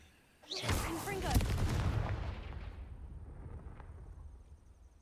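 A Confringo fire spell blast in the video game Hogwarts Legacy erupts suddenly into a loud, booming explosion after a brief quiet moment, then rumbles and fades away over a few seconds.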